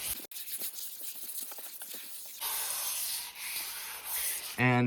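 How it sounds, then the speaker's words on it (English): Primer on a Dodge truck is scuffed with 400-grit sandpaper by hand, giving close, soft rubbing strokes, first quick and uneven, then a steadier hiss of continuous sanding. "you want to use a light grit sandpaper. I'm using 400. Just come in here and kind of scuff up the primer."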